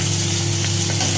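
Chopped onion with nigella seeds fries in the oil left from frying katla fish, making a loud, close, unbroken hiss of sizzling as it is stirred.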